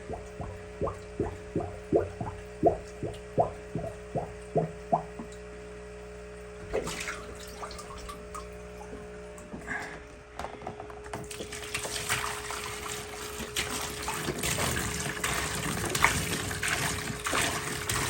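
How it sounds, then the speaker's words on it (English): Water pours from an empty gallon jug into a tote, starting with a run of glugging gulps as air enters the jug, then a steadier, louder splashing stream that builds toward the end. "I'll just use this empty gallon jug to put a little bit of water into a tote"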